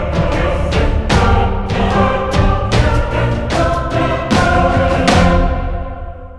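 Dense orchestral music at 150 BPM from the Storm Choir Ultimate library pounds along with heavy rhythmic drum hits, layered choir voices and clipped string stabs, loud and driving before fading at the end.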